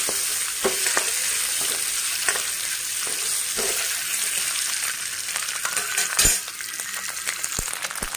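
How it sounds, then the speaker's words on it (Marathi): Eggs fry in hot oil in a pan for an egg curry, giving a steady close sizzle with occasional clinks and scrapes of a utensil and no talking. "तर आपले अंडे छान फ्राय झाले"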